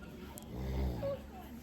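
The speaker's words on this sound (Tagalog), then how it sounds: "Ang lakas na po ng hilik ni Papa." A father snores loudly while asleep at night, low rumbling breaths rising and falling close by in a quiet room.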